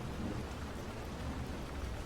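Heavy rain pours down in a dense, steady roar with low thunder rumbling underneath. The storm is continuous and close, and no voices are heard.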